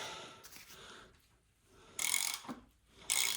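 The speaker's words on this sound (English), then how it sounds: "The crank bolt's still loose, so I'm gonna tighten that first." A ratchet turns the crank bolt on a BMW E30 engine, making quiet clicking pawl sounds, followed by two louder bursts of rapid ratcheting up close in a quiet workshop.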